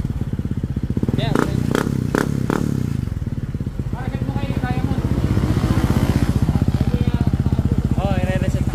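A Honda PCX 150 scooter with a modified stock-look exhaust pipe idles and revs close by, with a steady throbbing putter and a few sharp knocks early on. Someone talks over the engine.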